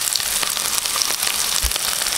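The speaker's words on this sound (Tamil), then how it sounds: "இப்போ எண்ணெய் காஞ்சிச்சுங்க, கடுகு போட்டுக்கலாம்." Mustard seeds, shallots and garlic frying in hot oil give a steady, dense crackle with scattered pops and spits, close and continuous, with no voices over it.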